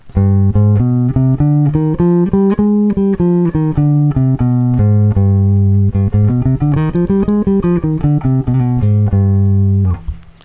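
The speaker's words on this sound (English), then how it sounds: "Here's this Phrygian dominant." Bass guitar plays a Phrygian dominant scale, notes climbing and descending one after another at an even pace, clear and close with no talking.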